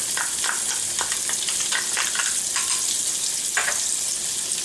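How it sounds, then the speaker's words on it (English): Shallot sautéing in olive oil in a pan, a steady close sizzle and crackle with scattered small pops throughout. "I'm going to saute this for like a few seconds just to give this oil flavor."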